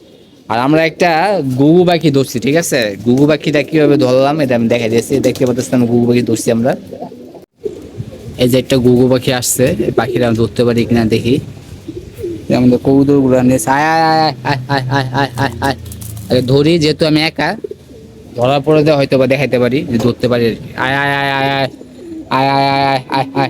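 Pigeons coo repeatedly at close range in a loft, their soft throaty calls overlapping with people talking throughout, broken by a few short pauses.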